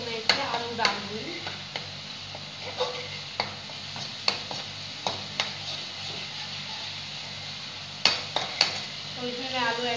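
Potatoes frying and being stirred in a pan for sabudana khichdi in a home kitchen: soft steady sizzle with a string of sharp spoon-on-pan clinks and scrapes at irregular intervals.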